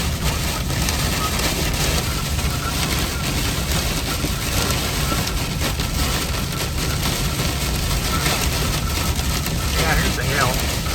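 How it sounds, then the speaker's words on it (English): Hail pelts down during a storm in Michigan's Upper Peninsula, a loud dense rattle and drumming on the surfaces nearby that continues without letup, with voices talking under it. "here's the hail"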